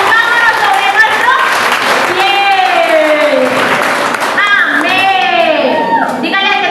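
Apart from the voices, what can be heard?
church congregation strong applause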